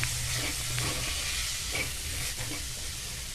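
Spices, turmeric and garlic-chili paste sizzle and hiss steadily in a hot pan as they are stirred, with faint scraping of the spoon through a continuous close frying sound and no talk.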